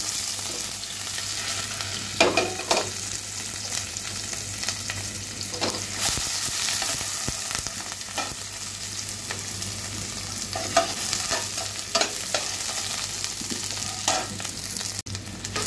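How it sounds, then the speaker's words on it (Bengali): Chopped onions frying in a generous amount of oil in a pan, with a steady close sizzle and occasional stirring scrapes throughout, and no talking. "দিয়ে দিচ্ছি একটু পেঁয়াজ কুচি, একটু বেরেস্তা করে নেব"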